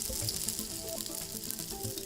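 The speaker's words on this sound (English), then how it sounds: "Oh, it's all about the sizzle." A meat patty sizzles and crackles steadily in hot frying oil, a dense, close, continuous hiss with small pops and no talking.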